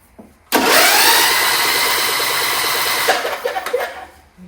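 A Briggs V-twin engine on a John Deere LA120 lawn tractor, spark plugs removed, cranks over on the starter with a loud, even whirring churn for about two and a half seconds, then slows and stops.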